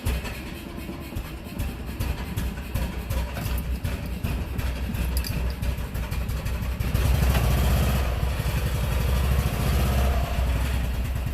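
A small car engine on a micro car hauler is started with the choke pulled and then settles into a steady idle, a continuous low rumble with rapid chugging pulses that grows slightly louder and fuller after about seven seconds.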